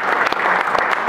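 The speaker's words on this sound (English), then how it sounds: "Give Randy a warm round of applause over here." At an outdoor Tea Party picnic, a crowd gives a warm round of applause for a guest who led the pledge, a brief burst of brisk, dense clapping from many people nearby.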